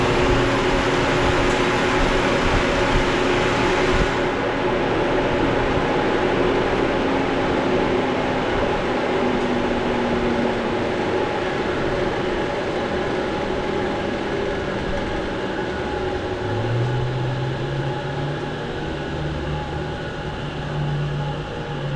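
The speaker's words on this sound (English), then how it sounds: "when I hit the start button, this motor should turn over" A scrap-built 40 HP rotary phase converter motor starts up: a loud, steady mechanical hum and rumble fills the space, and a low tone climbs in pitch near the end as the motor spins up.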